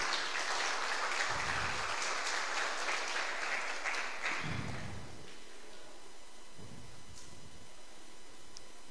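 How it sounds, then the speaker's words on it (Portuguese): A church congregation at a celebration service breaks into applause for the Lord, a busy crowd clapping that is strongest at first and then thins into a quieter, steady patter. "Vamos dar uma salva de palmas ao Senhor, meus irmãos"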